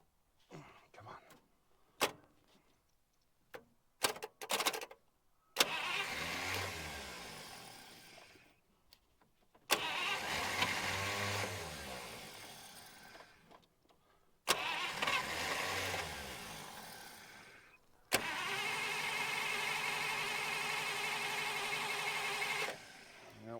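The starter of a 1951 Buick Super that sat unused for 25 years cranks over in four long whirring bursts after a few short clicks. The engine never catches and each attempt winds down before the next.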